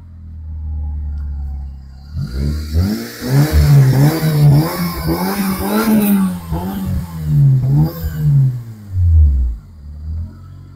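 A modified Honda Civic fitted with a mild aftermarket exhaust is revved repeatedly from idle, sending a series of rising and falling throaty pulses through the exhaust at close range before settling back, with no talking.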